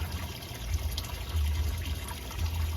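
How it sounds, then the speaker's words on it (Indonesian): Running water flows steadily over sand being washed for an undergravel pond filter, a continuous close gushing and trickling wash with no speech over it. "baru dilakukan pencucian pasir dengan air mengalir"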